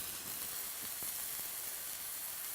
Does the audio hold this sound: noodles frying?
yes